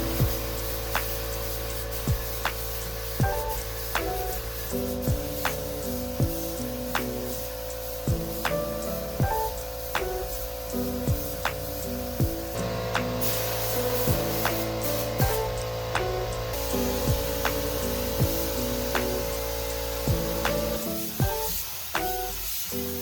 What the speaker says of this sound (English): This is the cheap little paint guns.